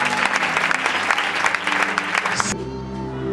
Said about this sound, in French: Est-ce qu'on peut acclamer très fortement le roi des rois?